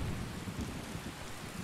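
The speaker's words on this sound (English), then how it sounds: "Do you want to leave in the middle of the storm?" Steady thunderstorm with heavy rain in The Witcher video game, a dense continuous hiss of rainfall over a low rumbling thunder bed, constant and enveloping with no voices.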